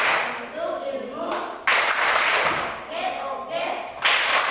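Group of people doing a rhythmic clapping chant in a lesson, sharp claps in bursts alongside chanted voices, fairly loud and close.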